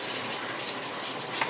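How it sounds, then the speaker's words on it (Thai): Thai chicken khua being stir-fried in a pan, a close, continuous sizzle with scraping stirring strokes as the oil cooks down, no talking. "คั่วไปเรื่อยๆน้ำมันก็จะงวดลงมาประมาณนี้นะคะ"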